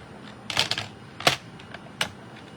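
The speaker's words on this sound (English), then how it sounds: "So I'm going to pull in my paper trimmer." A paper trimmer slices through cardstock for a stamped card project in three or four quick, crisp swipes spread over a couple of seconds, close and fairly loud with no talking.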